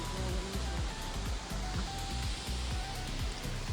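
Steady rushing water from a small monsoon waterfall in Kerala, a constant moderate splash and roar with no pauses.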